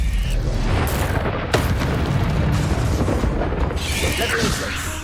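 Confringo blasting spell in Hogwarts Legacy, a deep booming explosion with rumbling debris sustained for several seconds, loud and close, with a voice over part of it.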